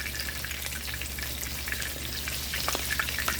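Salmon patties frying in oil for a gourmet sandwich, giving a steady close sizzle with scattered pops and crackles throughout, no talking.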